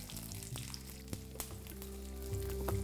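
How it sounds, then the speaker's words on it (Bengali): Garlic frying in the same oil used for an earlier ingredient, over a low flame for a Bengali pumpkin mash: a continuous soft sizzle and crackle with a few sharp pops, close and fairly quiet, with no talking. "এবার এই একই তেলের মধ্যে আমি এখানে ভেজে নিচ্ছি কিছুটা রসুন।"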